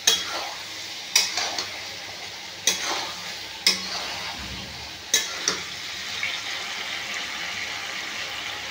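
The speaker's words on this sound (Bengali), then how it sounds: "এরপর আমি ভেজে রাখা পটল আর আলু দিয়ে দেবো। দিয়ে একটু সামান্য কষিয়ে নেব।" Pointed gourd and fried potatoes stir-frying in spiced oil in a pan, with a steady sizzle under sharp, repeated spatula scrapes and clinks against the pan at irregular intervals.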